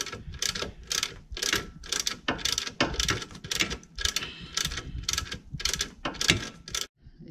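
A hand ratchet with a 13mm socket works a nut loose on a Mercedes-Benz C300/C350 W204 engine, giving a series of close, crisp clicking bursts in a steady back-and-forth rhythm with brief pauses between strokes.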